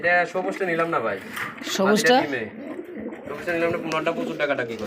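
Pigeons, desi and foreign breeds kept for sale, coo in soft repeated throaty calls nearby, with someone talking over them.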